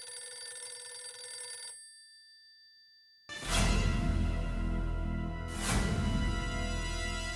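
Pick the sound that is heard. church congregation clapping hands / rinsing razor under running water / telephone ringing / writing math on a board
telephone ringing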